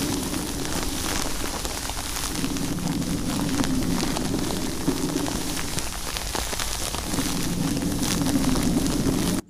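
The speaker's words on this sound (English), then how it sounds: "So now as our thunder rolls through," A rain and thunder sound effect processed with reverb: steady heavy rain hiss runs throughout, with a low rumbling roll swelling beneath it.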